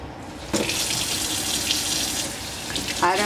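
Tap water runs in a loud, steady gush into a container while homemade Dawn dish soap is topped up, close by and continuous, with a brief change in the flow near the end.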